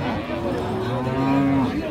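A Friesian cow at Raniganj cattle market in Dinajpur lets out a long, loud, drawn-out moo close by, set against a busy market background.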